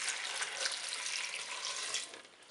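Water pours steadily into a pot of chestnuts with a bright, splashy hiss, close by and continuous before easing slightly at the end.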